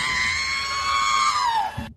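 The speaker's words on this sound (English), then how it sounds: "R2D2 screaming versus pit droid" R2-D2 from Star Wars lets out one long, high, electronic screaming wail that slowly slides downward before cutting off abruptly, loud and alone.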